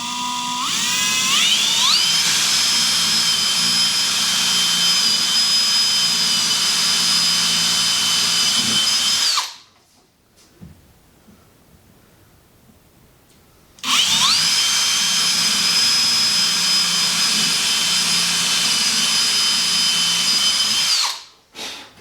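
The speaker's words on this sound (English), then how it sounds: "I'm going to use a smaller drill bit to drill some pilot holes." A power drill with a small bit bores pilot holes in two long whining runs, each spinning up to a steady high pitch, separated by a few seconds of quiet.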